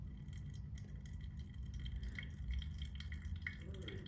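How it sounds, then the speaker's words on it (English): Hot water trickles from a full Fellow Stagg EKG kettle poured in circles into a Hario V60 Mugen dripper, a faint steady splashing and dripping close by. "I've got my kettle full, so it makes it a little bit easier for the Stag EKG to pour a little bit quicker."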